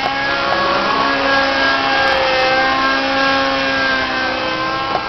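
A Thunder Tiger Raptor radio-controlled helicopter with a .35 engine runs at a steady high pitch, its buzzing, harmonic-rich drone holding nearly constant through a few seconds of close outdoor recording at a model flying meet.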